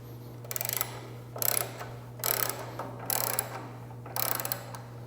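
A Torx bit turns hex bolts loose on the fence of a 6-inch jointer in a workshop, giving five evenly spaced bursts of ratcheting, grinding mechanical noise over a steady low hum, with no talking.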